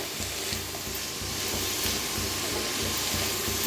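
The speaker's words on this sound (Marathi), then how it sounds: "आता ह्याच्यात ओतूया थोडंसं तेल, तेल ओतल्याने लगेच भाजलं जातं" Cabbage and other vegetables sizzling as they roast in oil, a steady close crackle with a low rhythmic clatter of stirring underneath.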